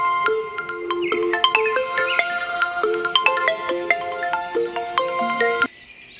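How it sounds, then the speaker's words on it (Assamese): A mobile phone ringtone plays a bright, tuneful melody of repeated chiming notes, loud and clear indoors, stopping abruptly near the end. "ফোনটো বাজি আছে, কোনে মাৰিছে চাচোন"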